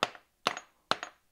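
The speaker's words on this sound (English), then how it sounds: "I'm going to use a brass hammer if you're going to make adjustments to this." A brass hammer taps a metal part being set up on a milling machine for a custom chopper frame, making three sharp ringing clangs about half a second apart, each with a short bounce and a brief ring.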